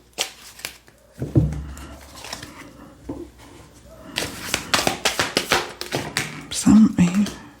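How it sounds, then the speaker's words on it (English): Rapid riffling and tapping of tarot or oracle cards, a burst of crisp flutters followed by a longer run of sharp, quick shuffles, close and fairly loud. "And I really shuffled this deck."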